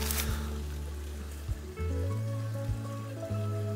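Artesian spring water pumping out constantly beside a pond at a forest cabin, a steady watery rush with low humming tones and occasional soft knocks, close and continuous.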